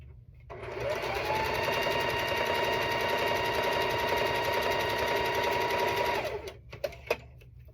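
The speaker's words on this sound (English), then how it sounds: "sew these pieces together." A sewing machine runs in one steady, fast burst stitching quilt pieces together, a bright whirring hum with rapid needle chatter for about six seconds, then stops with a few small clicks and knocks.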